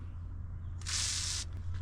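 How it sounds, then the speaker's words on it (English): A can of WD-40 sprays in one steady, close hissing burst lasting under a second onto a solar light panel, over a low background hum. "All you need to do is just have like a WD-40 and just spray on top of it."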